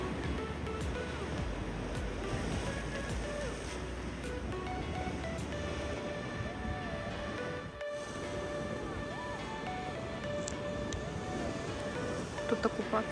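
Waves breaking against a concrete shore where people sunbathe in Odesa, a steady roar of surf with wind noise across the whole span and brief faint voices and sounds near the end.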